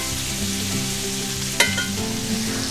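Chopped sweet onion and minced garlic frying in a pan, a steady soft sizzle with a sharp clink of a utensil being stirred through partway, no talking.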